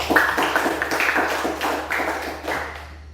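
Students in a classroom clap together in a loose, rhythmic pattern of distinct claps at moderate loudness, with a steady low hum underneath and the clapping fading out at the end.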